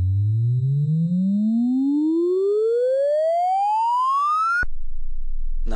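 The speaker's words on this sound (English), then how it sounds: "So let's play a note. There's our riser." A synthesizer riser effect: a sustained tone glides steadily upward in pitch for several seconds, loud and clean, then cuts off abruptly to a low hum before a new note begins.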